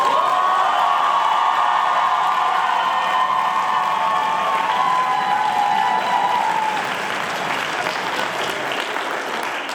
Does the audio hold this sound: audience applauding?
yes